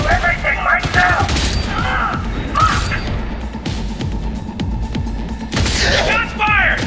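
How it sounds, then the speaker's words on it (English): Gunfire in the video game Cyberpunk 2077, a dense fusillade of shots and crashes running throughout with game voices speaking over the action. "Shots fired!"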